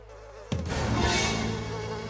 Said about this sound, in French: peut-être que les abeilles sont de bonne humeur